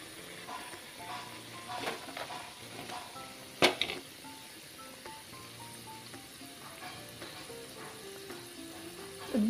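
Spicy puris deep-fry in oil with a continuous bubbling sizzle, a sharp metallic clink of a utensil partway through and a few soft scraping stirs.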